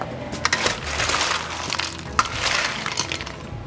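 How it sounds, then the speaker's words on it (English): Ice cubes clatter and clink into a cocktail mixing glass for a bourbon Boulevardier, with a scattered run of sharp glassy knocks and rattles over a few seconds, close and fairly loud, with no talking. "Throw some ice in here, get some good dilution"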